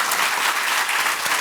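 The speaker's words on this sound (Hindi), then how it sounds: "इनके सम्मान में एक बार बहुत ज़ोरदार तालियां हो जाएं" Loud, dense applause from an audience at an award ceremony of a community foundation's club in Madhya Pradesh, honoring the event organizers; steady, full clapping throughout with no break.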